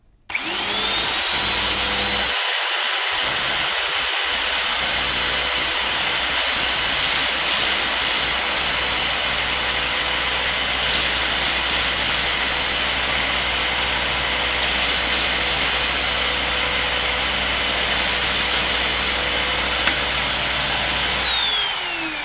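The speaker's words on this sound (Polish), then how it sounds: "Włączamy wiertarkę, będzie trochę szumu" A loud, steady electric drill motor whine with a high-pitched drone runs almost without a break while sharpening a drill bit in a jig, starting and stopping abruptly at either end.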